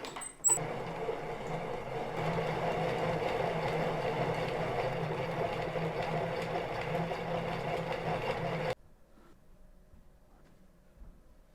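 A yarn ball winder whirs steadily as it winds yarn into cakes, a close, continuous mechanical hum with a faint rattle that runs for several seconds, then stops abruptly and leaves quiet room tone.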